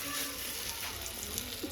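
Prawn fritters made with an onion and chilli paste fry in hot oil, giving a continuous soft sizzle and crackle at moderate volume.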